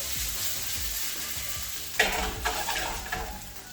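Breakfast potatoes fry in a pan with a steady close sizzle; around the two-second mark a spatula starts stirring them, adding scraping bursts and louder crackles.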